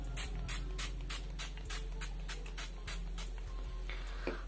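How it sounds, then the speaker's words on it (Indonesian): Pixi Aqua Beauty Protecting Mist face mist sprayed onto a face in a series of about eight short, soft hissing spritzes, evenly spaced, close and quiet over a low background hum. "Jadi caranya tinggal disemprot-semprot aja ke seluruh permukaan wajah."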